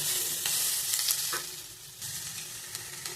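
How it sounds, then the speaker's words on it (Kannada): Tomato frying in a pan for paneer masala, a steady close sizzle with brief stirring scrapes and clatters throughout, no voices. "ಇದು ಒಂದೆರಡು ನಿಮಿಷ ಫ್ರೈ ಮಾಡಬೇಕು ಟೊಮೊಟೊ ಒಂದು ಅರ್ಧ ಬೇಯಿಸ್ಬಿಟ್ಟು ಫ್ರೈ ಮಾಡಬೇಕು"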